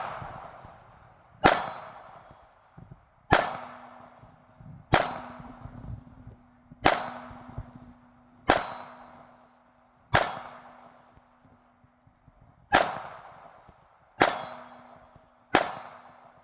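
Ruger Security-380 pistol firing steel case ammunition, nine sharp loud shots at irregular intervals of roughly one to two seconds, each a ringing crack with a short decaying tail, close and without talk.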